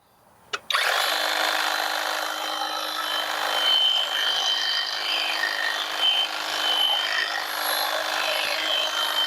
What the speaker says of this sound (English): we're just going to do some light trimming of this particular bush